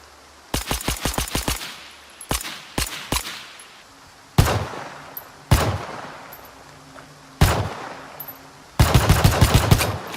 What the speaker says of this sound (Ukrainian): Ось послухайте, як звучать ці два пістолета.